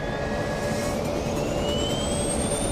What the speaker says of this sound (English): the pilots begin their takeoff roll.